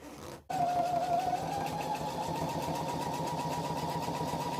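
A sewing machine stitches down the side of a cushion, starting after a brief pause and then running with a steady, fast, continuous whirring hum that stays close and loud throughout.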